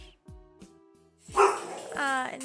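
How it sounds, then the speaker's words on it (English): A dog barks and yips at close range indoors, several sharp separate barks followed by a longer whining, tonal bark, with a person talking between them. "No, that sounds like a mean bark."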